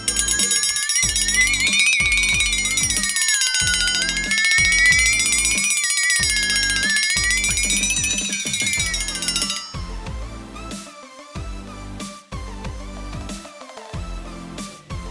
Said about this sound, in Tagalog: Crazy Dinner Bell.